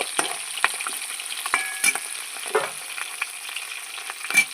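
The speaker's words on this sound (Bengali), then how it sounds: "মাছের মাথা এক পিট ভাজা হয়ে গেছে আর এক পিট আমি উল্টে নিচ্ছি" A hilsa fish head sizzles in hot oil, a close, fairly quiet frying hiss broken by sharp pops and spatters, and a few clinks of a utensil, with no voices.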